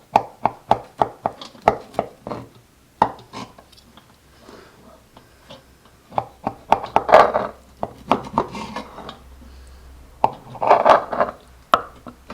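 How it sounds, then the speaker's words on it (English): Slices cut from a homemade deep dish pizza, with close, sharp knife strikes and chops against a board, coming in quick clusters between scraping strokes and short pauses. "I'm going to cut slices out of this and serve it."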